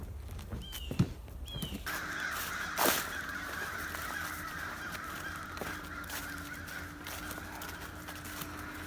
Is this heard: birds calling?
yes